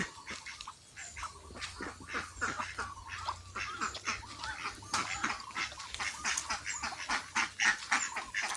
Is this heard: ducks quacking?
yes